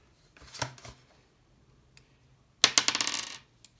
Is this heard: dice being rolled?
yes